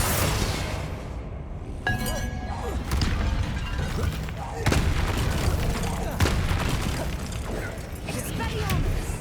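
A Confringo blasting spell goes off in the video game Hogwarts Legacy as a booming, shattering burst followed by crashing debris and scattered impacts, with a voice talking over the battle sounds.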